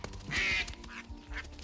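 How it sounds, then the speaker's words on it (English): Wild ducks that have landed on a backyard swimming pool in The Sopranos give a loud burst of quacking, followed by a few fainter quacks over quiet background. "these two wild ducks landed on my pool"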